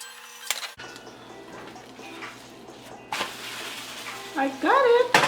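A luncheon loaf and vegetable egg omelet frying in a pan, a soft continuous sizzle with tongs pressing and tapping, a sudden louder burst of frying partway through, and a few sharp squeaky scrapes near the end.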